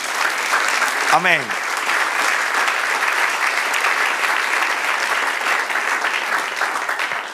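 A church congregation claps steadily and loudly, the dense applause filling the room throughout. A voice calls out briefly over it near the start.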